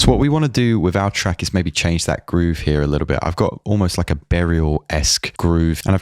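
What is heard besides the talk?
No everyday noises stand out.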